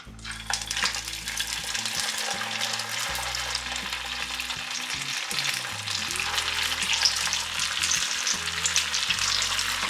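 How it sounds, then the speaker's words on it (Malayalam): Sago vadas deep frying in hot oil in a pan, a steady dense sizzle and bubbling that runs throughout, with occasional soft clinks of a utensil against the pan. "ഇനി നമ്മൾ ഓരോ വടയായിട്ട് ഇട്ട് കൊടുക്കുകയാണ്."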